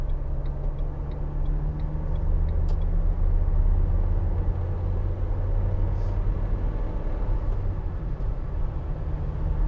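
A 2016 Vauxhall Vivaro 1.6 CDTi BiTurbo van on the move, with steady loud cabin rumble and road noise throughout and faint ticking near the start.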